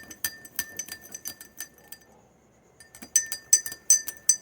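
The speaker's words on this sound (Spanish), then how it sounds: "Agitando la solución B ya casi por 2 minutos" A spoon stirs sugar dissolving in water inside a glass, giving bright repeated clinks against the glass that fade briefly mid-way, then return louder and more rapid.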